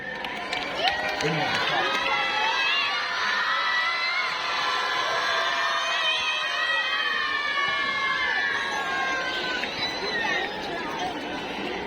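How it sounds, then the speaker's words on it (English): Crowd cheering and shouting at a school Children's Day event as under-19 girls take the stage, a loud, continuous roar of many voices that holds at the same level from start to end. "please give a big round of applause to them"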